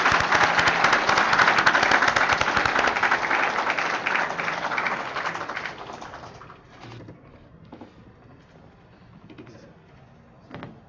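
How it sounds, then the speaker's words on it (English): Loud audience applause fills a conference hall at a management of infrastructure conference, then gradually thins out and fades to scattered claps and quiet room noise. "Please welcome Dr. Parekh on stage among your loud applause."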